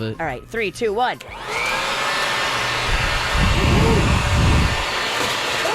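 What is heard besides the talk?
leaf blower blowing cinnamon sugar off a counter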